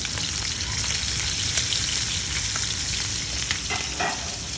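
Pork chop laid in hot oil in a pan: loud, steady, close sizzling and crackling frying that holds continuously throughout, with a few brief louder pops, no talking.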